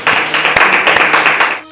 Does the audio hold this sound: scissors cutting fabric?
no